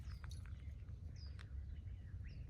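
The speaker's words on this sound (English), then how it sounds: "But listen to the birds." Birds in the Arizona desert near Saddle Mountain, scattered short chirps and whistled calls at moderate distance over a low rumbling background, with no one talking.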